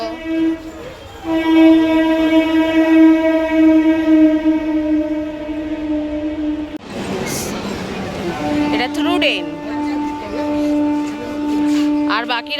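A local train at Bally railway station sounds a long, loud horn with steady sustained tones, then a noisy rumbling passage and a second horn blast; voices speak nearby over the noise.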